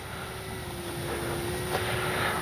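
A radio-controlled P-51D warbird model plane passes slowly with gear or flaps down, a steady droning engine whine with a faint rise as it goes by, heard alone with no talking.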